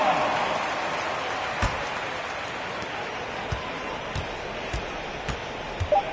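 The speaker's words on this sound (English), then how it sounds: "Give them a round of applause." Crowd applause in an NBA 2K basketball game as the Cleveland Cavaliers team takes the court. A steady wash of clapping and crowd noise runs throughout, with occasional soft thuds scattered through it.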